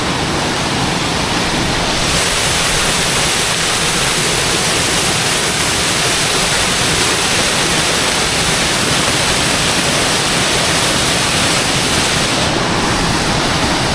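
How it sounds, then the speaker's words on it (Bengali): A mountain waterfall on the Kedarnath trek roars as a loud, steady broadband rush of falling water that fills the scene without pause. "ঝর্ণাটা দেখো কোথা দিয়ে যাচ্ছে, আর ওইখানে নামছে, ওই নিচে।"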